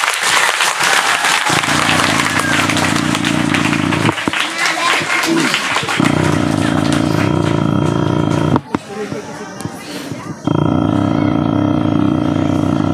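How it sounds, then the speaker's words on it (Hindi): Schoolchildren at a high school World Environment Day gathering clap loudly for the headmaster, bursts of dense applause that pause and resume, with a voice speaking between the rounds. "जोरदार ताली बजाएंगे एक बार एचएम सर के लिए।"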